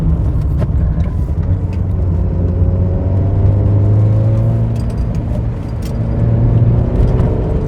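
A 1997 Hyundai Lantra 2.0GSi drives over bumpy road, its engine droning loud and steady from inside the cabin with low rumbling and gently shifting pitch, no voices.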